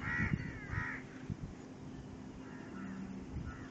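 Crows cawing above a field near a main road, several harsh caws at the start and a few fainter ones later, heard at a distance over steady outdoor background noise without talk.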